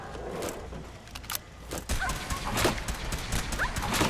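A dog in Fallout 4 gives short yelps and whimpers while being hit, scattered over a busy mix of game effects and thuds.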